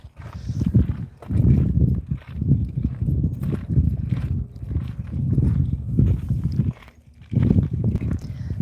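Footsteps crunch steadily on dry, parched ground, close and loud, in a regular walking rhythm with one brief pause.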